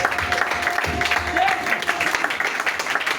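A church congregation applauds the Lord during a French-language praise and worship service, steady clapping mixed with crowd noise and voices underneath.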